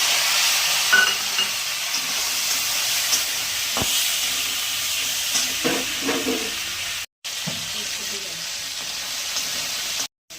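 Spices, ginger and peas fry in a pan with a steady broad sizzle and hiss and occasional stirring scrapes, close and continuous with one brief dropout near the end.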